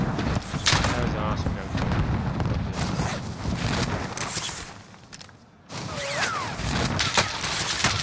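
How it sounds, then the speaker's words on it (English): Gunfire in Call of Duty Warzone on Rebirth Island, rapid shots and booms crackling throughout under continuous player talk, briefly dipping before resuming. "I'm getting shot from harbor."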